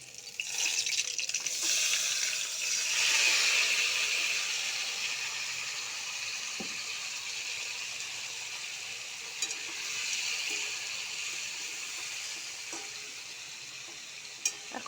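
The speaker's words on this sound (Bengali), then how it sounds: "আলুটা ভাজা হয়ে গেছে। আমি একটু বেরেস্তা তৈরি করে রেখেছি। এবারে আমি মাংসগুলো দিয়ে দেব।" Chicken pieces added to a pan of fried potatoes over a cumin tempering with fried onions, for chicken with capsicum. A steady, close sizzling hiss swells loudest in the first few seconds, then settles into an even fry with a few faint clicks, and no voices.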